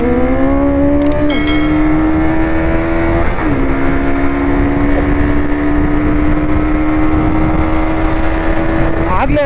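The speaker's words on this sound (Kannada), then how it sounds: "ಸೊ 0 to 100 ಎಷ್ಟು ಸೆಕೆಂಡಲ್ಲಿ ಹಿಡಿಯುತ್ತೆ ಗಾಡಿ ನೋಡ್ಬಿಡೋಣ" A Bajaj NS200 motorcycle accelerates flat out in a 0-100 run, its loud engine note rising steadily through the gears with brief dips at each shift, close and constant throughout.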